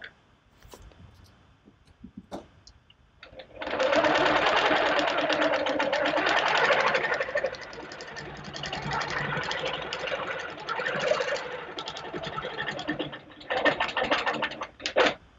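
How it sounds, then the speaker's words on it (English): A long arm quilting machine stitches steadily and loudly for long stretches, its dense mechanical whir varying slightly in pace, with a brief pause near the end before it starts up again. "I'm going to stitch up and over and down to the corner."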